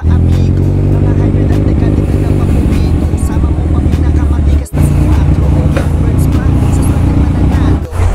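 A big bike motorcycle rides along hot, congested Commonwealth Avenue in Manila, its loud, steady engine drone close and continuous amid traffic, with two brief sharp dropouts partway through and no talking.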